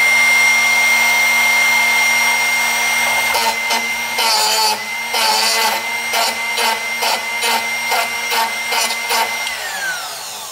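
A Drill Doctor XP2 sharpener hums with a steady motorized whine while a drill bit is sharpened. Partway through, a run of rhythmic grinding rasps starts, one with each turn of the bit, and then the motor winds down.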